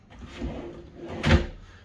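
A soft-close bathroom vanity drawer slides shut close by, a soft rolling glide ending in a muffled thud after a quieter bump earlier.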